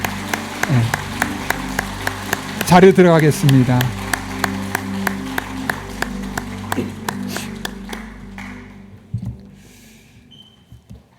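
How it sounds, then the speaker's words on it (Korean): A church congregation at a Sunday service claps in blessing for a departing mission team. The applause is loud and close, with a strong burst near the start that fades away, and someone speaks over it. "우리 선교팀 인사할 때 우리 축복의 박수 부탁합니다."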